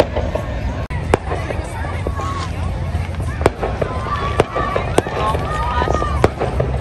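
Fourth of July fireworks burst over Boston, sharp distant bangs and crackles scattered through a steady outdoor crowd murmur, with people talking nearby.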